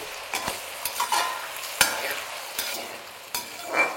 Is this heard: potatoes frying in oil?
yes